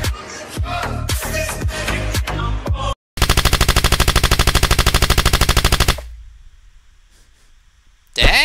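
Gunfire from the hunter in the video game The Outhouse: ragged bursts of shots, a brief silence, then a loud, rapid, steady machine-gun rattle for about three seconds that cuts off into a fading echo before another burst starts.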